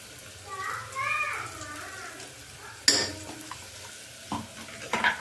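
Potatoes with Kashmiri chili, sugar and salt are stirred in a pan, with a spoon scraping and clinking against metal in scattered strokes over a light sizzle, and faint voice sounds early on.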